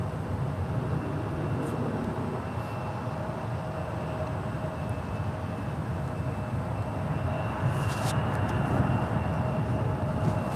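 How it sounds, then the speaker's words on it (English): A Southwest Airlines Boeing 737-700 departs from SFO, a constant broad jet roar at steady loudness throughout, with faint clicks near the end. "That was Southwest Airlines Flight 2271 heading to Los Angeles, LAX at the 737-700"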